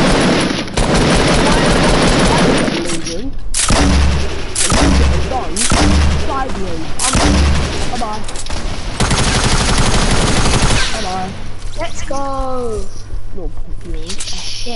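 Rapid bursts of gunfire and heavy booms from Fortnite battle royale gameplay, loud and continuous across the match, with players talking excitedly over the shooting.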